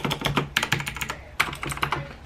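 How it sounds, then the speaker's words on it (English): Rapid clacking keystrokes from a clicky mechanical keyboard, close and crisp, typed in two quick bursts with a short pause between. "very clicky keyboard,"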